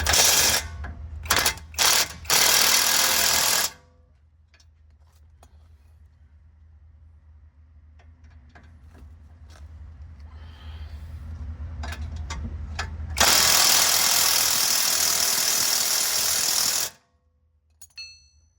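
Bursts of loud whirring and rattling from a Milwaukee impact tool tightening an 18 mm control arm nut on a 2014 Nissan Altima 2.5 S, a long quieter stretch with faint clicks, then another sustained run before stopping.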